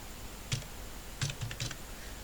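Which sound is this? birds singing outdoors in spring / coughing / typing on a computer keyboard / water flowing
typing on a computer keyboard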